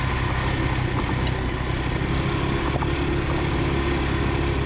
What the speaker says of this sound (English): kitted out with a Lifan engine. It's a 125cc engine, so it's got a little bit of power